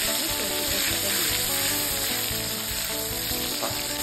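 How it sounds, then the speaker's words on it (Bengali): Tomatoes and mustard-poppy paste fry in a wok, giving a dense, continuous crackling sizzle at close range, steady and unbroken with no talking. "টমেটোগুলো আমার একটু ভাজা ভাজা হয়ে গেছে, এরপর আমি সর্ষে পোস্তটা দিয়ে দিই।"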